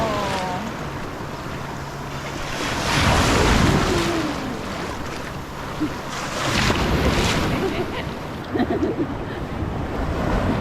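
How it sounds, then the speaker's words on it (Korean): Rough sea waves wash and surge at Ao Phai beach on Koh Samet, swelling loud twice then receding, with gusty wind buffeting the microphone and faint splashing near the end. "오늘 파도가 제법 심해서"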